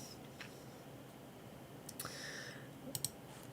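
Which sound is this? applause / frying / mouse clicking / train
mouse clicking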